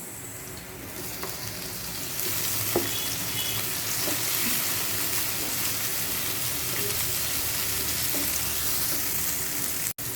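Tomatoes drop into a hot frying pan for a shrimp dish, a steady loud sizzle that jumps up about two seconds in and holds close and continuous, with faint scattered clinks and a brief cutoff near the end.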